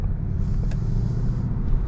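Ford Mustang Bullitt V8 engine rumbling steadily at low revs, a deep, continuous throb heard from inside the car for just under two seconds, with no speech.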